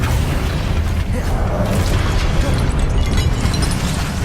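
A Confringo fire spell bursts in Hogwarts Legacy as a loud, sustained blast of roaring, crackling explosion noise filling the whole moment with dense rumble.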